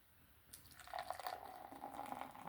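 Beer from a KC Bier Co advent calendar bottle pouring into a glass, a wet fizzing splash rising after a quiet start and holding steady for a couple of seconds, with foamy gurgles and drips close to the microphone.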